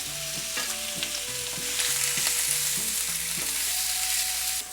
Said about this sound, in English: Add your beef strips. And stir fry until well browned.